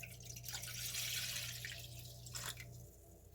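Water poured from a container into a cooking pot for making flaxseed gel, a steady splashing pour with bright, fizzy texture that runs for about three seconds before trailing off, close and fairly quiet, with no talking.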